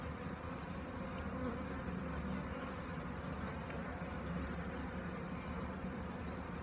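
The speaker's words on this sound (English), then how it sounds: "lot of bees, new bees here." Honey bees in an open beehive, a dense continuous buzzing hum of many insects close by, steady throughout with no voices.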